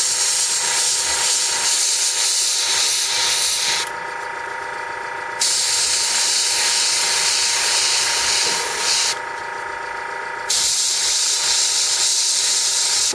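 Spray paint hisses onto handmade slate from about three-quarters of an inch away, a loud continuous spray broken by two short pauses, with no speech.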